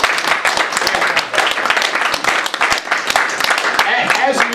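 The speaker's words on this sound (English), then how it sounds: "let's give a round of applause for Bob Wagner" A room full of people at a talk on the Federal Reserve claps for a speaker, with sharp close claps over crowd noise and some voices throughout.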